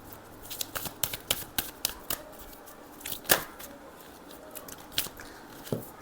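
Tarot cards being shuffled and drawn: a quick run of soft snapping flicks and riffles close up, then scattered single card slaps, quiet and with no talk.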